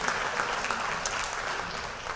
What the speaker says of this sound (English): Let's give one more round of applause to our varsity football coaching staff and all of our players as well.